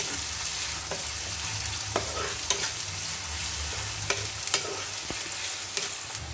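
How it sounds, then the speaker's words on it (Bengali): Ginger and vegetables stir-fry in a hot pan for street-style fried rice, with a constant loud sizzle and scattered clinks and scrapes as the food is stirred, all close up and without speech. "এটাকে দিয়ে এবার ভালো করে নাড়িয়ে নেব। এটাকে 1 থেকে 2 মিনিট মতো আমরা ভাজবো।"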